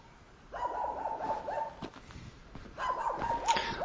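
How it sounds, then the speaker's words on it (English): Dogs barking and yelping outdoors in Orhei, Moldova, in two noisy bursts of overlapping, moderately distant barks and whiny yips separated by a short lull. "Don't mind the dogs."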